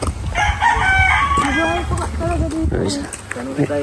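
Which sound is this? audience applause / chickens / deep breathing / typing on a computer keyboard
chickens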